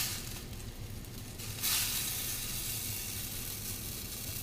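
Shrimp sizzling in a hot pan for shrimp scampi, a steady close hiss that swells louder after a moment and keeps crackling evenly, with no voices.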